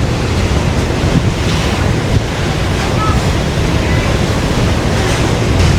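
Strong, steady wind roars across the open deck of the Staten Island Ferry crossing New York Harbor, broadband buffeting against the microphone mixed with water and surf noise, loud and continuous with no speech.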